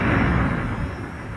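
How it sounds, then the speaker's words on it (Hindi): A thunder sound effect plays during a devotional Hindu katha, a loud, deep, rolling rumble that booms at once and slowly fades out. "मेघ गड़गड़ाने लगे"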